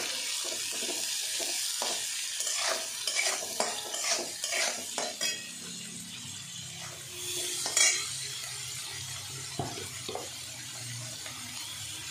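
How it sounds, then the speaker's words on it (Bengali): Onion and capsicum fry in a pan for poha, a steady sizzle under repeated scraping and stirring of a utensil against the pan, close and moderately loud throughout, with no talking. "এবারে আমি পেঁয়াজ আর ক্যাপসিকামটা দিয়ে দেবো"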